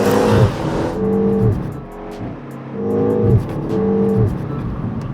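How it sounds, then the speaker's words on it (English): The engine of a 2026 Mini Cooper JCW in Go-Kart mode revs hard and loud, breaking sharply at each aggressive upshift before climbing again. The car is heard from close range with no speech. "if you put this car in Go-Kart mode, which is the only mode you should be driving the Cooper JCW as per me, it has this absolutely unnecessary but equally absolutely brilliant aggressive upshift"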